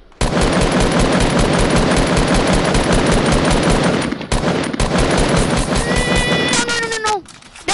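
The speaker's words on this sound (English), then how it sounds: "They're shooting back at me." Enemies in a shooter video game fire back in loud, dense bursts of automatic gunfire that run almost unbroken, with a few short gaps and some ringing game effects near the end.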